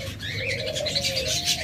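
Lovebirds kept in a breeding setup with eggs give high, chirpy calls and coos in a steady, close chatter, with no talking.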